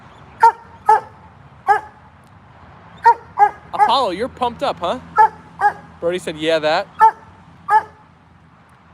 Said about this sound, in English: Watch the barking there, buddy boy.